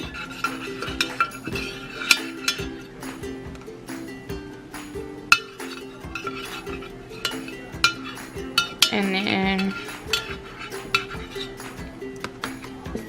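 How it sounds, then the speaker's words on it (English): A spoon clinks and scrapes against a baking pan while Alfredo sauce is spread across the bottom for stuffed shells, producing irregular close metallic taps and a short smeary scrape, with no speech. "So I'm gonna put some Alfredo sauce at the bottom of the pan to eliminate, you know, anything sticking down here."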